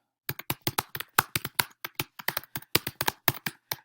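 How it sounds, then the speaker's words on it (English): Fast, steady keystrokes on a computer keyboard, about a dozen crisp taps per few seconds in an irregular rhythm, close and clear in a quiet room with no talk. "you'll have to pardon my typing as we go along here."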